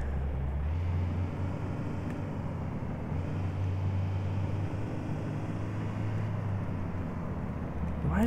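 Car engine in the City Car Driving video game holding around 2000 rpm, a steady low hum with a droning tone that dips and returns, heard alone without talk.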